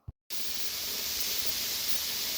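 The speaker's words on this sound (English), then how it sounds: "We're going to bring it up until it's venting a steady stream of steam." Steam vents steadily from a pressure canner loaded with jars of black beans, a loud, constant broadband hiss that starts abruptly after a brief silence and continues unbroken.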